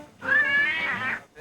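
A cat in a film scene gives one long, drawn-out meow, close and clear, rising and then falling away, with a short bit of a second sound at the very end.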